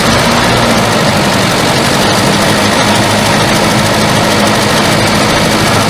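A 1974 Volvo 142 engine idles loudly and close with a steady, rough rumble and vibration that never lets up, and no voices over it.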